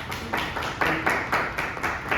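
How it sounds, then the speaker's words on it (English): A round of applause for a presenter at a presentation event in Orlando, heard as a smattering of distinct, rhythmic claps, fairly close and moderately loud, from what sounds like a small audience. "So, without further ado, give a round of applause to Joel."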